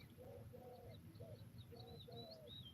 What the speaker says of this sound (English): I got doves, all of them.